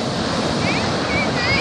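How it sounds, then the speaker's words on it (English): Ocean waves roll in against the rocks at White Sand Beach in Acadia National Park, a steady loud wash of surf with wind buffeting the microphone. "The waves coming in."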